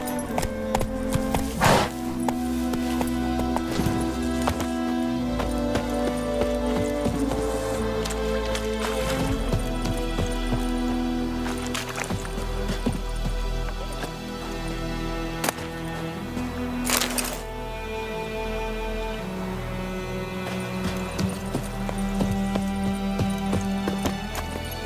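Roach the horse galloping in The Witcher 3 video game, rhythmic hoofbeats under a continuous musical score with occasional louder effects, no speech.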